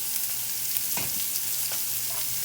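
Browned chunks of Spam sauté with onion in a pan, giving a soft continuous sizzle with a couple of brief scraping stirs over about two seconds, no talking.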